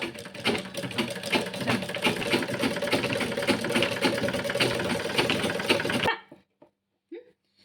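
A sewing machine stitches fabric for a homemade hair clip, a steady rapid mechanical whirr and clatter running loud and close for about six seconds before stopping abruptly.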